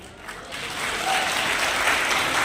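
Applause from an audience at a national voters' awareness festival held at an Ayurvedic college in Udaipur, starting modestly and swelling into sustained, fuller clapping that holds steady to the end.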